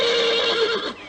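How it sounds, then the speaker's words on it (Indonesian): An angry horse lets out a single loud, close whinny that rises and then trails off, heard alone. "Kuda itu mengais-ngais kakinya dan sesekali meringkik keras dengan sikap yang kelihatan marah."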